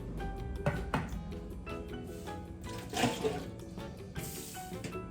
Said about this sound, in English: I'm going to dump all this water out